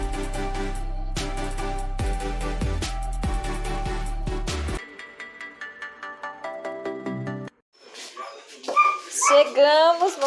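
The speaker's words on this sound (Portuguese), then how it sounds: "Olha o cachorro agradecendo pela gente." A dog yips and whimpers at a rural farm gathering, heard after a stretch of tonal ringing and music-like notes, its cries close and rising in short excited bursts near the end.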